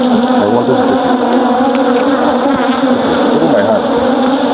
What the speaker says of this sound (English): You can see how active this hive is.